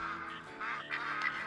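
Mallard ducks quack continuously in the Call of the Wild hunting game, a dense overlapping chorus of calls from a flock on the water, steady and moderately loud with no talking.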